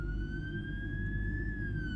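Police sirens wail steadily in a city at night as part of a visual novel game, one rising and falling tone held loud and continuous over a dense low rumble of traffic.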